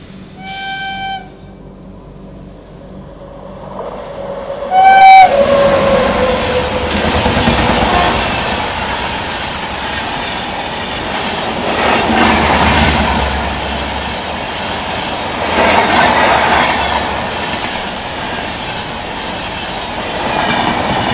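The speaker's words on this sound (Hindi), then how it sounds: "अब जाके फाइनली ये आ रही है हिमगिरी एक्सप्रेस।" Himgiri Express train on Indian Railways rolling through Darauli station, opening with a loud, sustained multi-tone horn blast, then a steady, close rumble and clickety-clack of wheels and carriages passing continuously.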